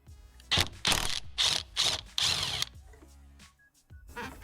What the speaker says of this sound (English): you just get your 19mm socket piece and you can put it straight in the center here